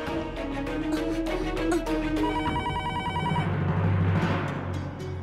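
Landline telephone ringing in repeated trilling bell bursts, loud and close, with a second electronic ring tone overlapping partway through.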